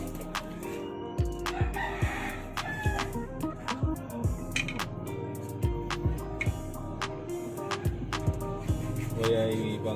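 A captured derby fighting rooster on Siargao Island crows repeatedly up close among steady clucking from other chickens, loud and busy throughout with no talk over it.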